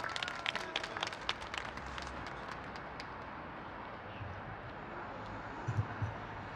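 Audience applause at an outdoor rally against dam construction in Korea, a steady crowd clapping of moderate loudness that fades and thins over several seconds.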